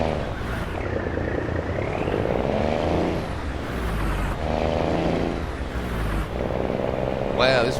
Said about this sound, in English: it's funny how different a truck can sound when it's pulling a load.